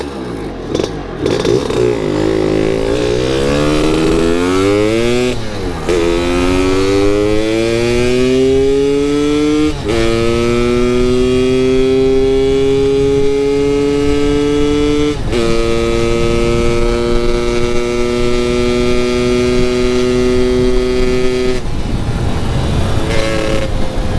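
A Lambretta scooter engine revs hard on a test ride with a recently installed CASA disc brake, its pitch rising and settling through several gear changes, loud and continuous with no talk.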